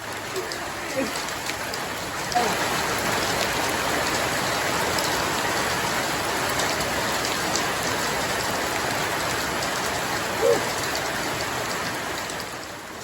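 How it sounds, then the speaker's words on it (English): Heavy rain pours down steadily, a dense continuous hiss of drops on surfaces, with a couple of faint brief voices in the background. "There it is. The rain's here."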